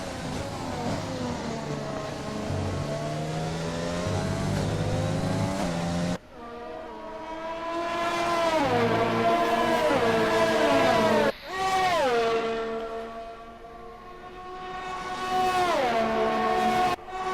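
A Honda Formula 1 engine in the racing game F1 2020, at the Belgian Grand Prix, screams through high revs with rising pitch sweeps and sharp drops at gear changes, loud and sustained without talk.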